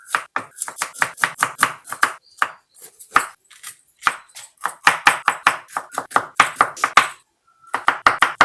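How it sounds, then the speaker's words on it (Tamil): Rapid knife chopping of vegetables and green chillies into small pieces on a cutting board, a steady run of crisp close thuds in quick bursts with brief pauses, no talking. "இப்போ இதெல்லாம் சின்ன சின்னதாக கட் பண்ணிக்கலாங்க"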